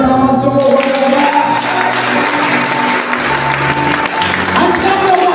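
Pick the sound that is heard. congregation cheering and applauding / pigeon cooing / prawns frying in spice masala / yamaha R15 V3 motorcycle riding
congregation cheering and applauding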